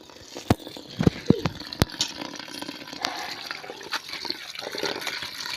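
Water splashes and trickles steadily while leafy greens are swished and rinsed, with a few sharp clicks and knocks early on.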